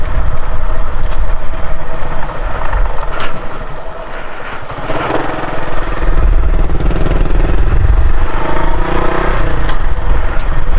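A motorcycle engine hums and revs along a narrow bypass road, loud and close throughout, with a brief lull before the engine note rises again and wind buffets the ride.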